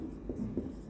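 Pen or marker writing an example during a basic chemistry lecture on metals and alloys, heard as brief scratchy strokes close by against a low room hum, with no clear speech.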